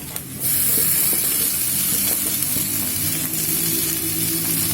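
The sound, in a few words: onion, ginger, garlic and green chili frying in a pan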